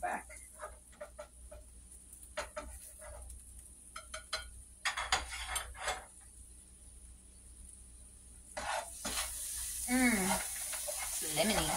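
Dryad saddle and pheasant back mushrooms sautéing in a pan, a soft intermittent sizzle with scattered clicks and stirring, growing louder and more continuous toward the end, with a voice talking over parts of it.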